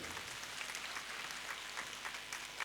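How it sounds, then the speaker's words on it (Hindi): Applause from a congregation at a Catholic church's annual coronation ceremony of Mother Mary, a dense, steady clatter of many hands filling the whole stretch at an even level. "मैं चाहता हूँ भरपूर तालियों में हम एक दूसरे को मुबारकबाद दें"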